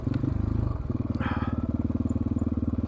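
A 2022 GPX FSE300R motorcycle rides in second gear at slow trail speed, its engine giving a steady, close, rhythmic thrum throughout.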